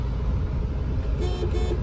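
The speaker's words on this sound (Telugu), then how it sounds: "హారన్ పర్ఫెక్ట్ ఉంది" A car horn sounds briefly near the end, a short toot over the steady low rumble of an idling 2015 Maruti Ciaz diesel.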